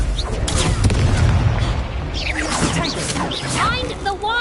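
A Confringo spell blast in Hogwarts Legacy on PS5, a loud booming explosion with whooshes and crackling spell effects, close and full, while a voice talks over it.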